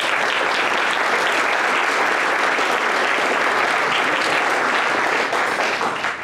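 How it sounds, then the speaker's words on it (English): Sustained applause from the audience at an energy committee roundtable, a thick, steady wash of many hands clapping at close range, loud and unbroken before easing slightly at the very end. "So let's give them a hand of applause"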